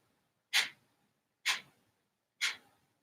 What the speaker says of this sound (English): Kapalabhati breath is the practice where we're breathing out of our nose